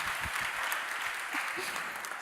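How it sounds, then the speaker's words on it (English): Audience applause at an academic lecture, a dense patter of clapping from a room full of people, steady and moderately loud throughout. "Florent, Louise, and Amanda, a round of applause for them."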